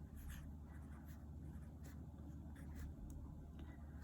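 Pen or marker strokes write an equation on a board, a close, faint run of quick scratchy strokes and taps over a low steady hum.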